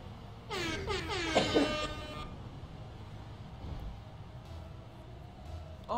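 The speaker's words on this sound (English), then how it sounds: "Air horn time. Air horn." A loud, blaring air horn sounds in a Rocket League game stream, a cluster of stacked honking blasts lasting under two seconds, then fading into quieter game audio.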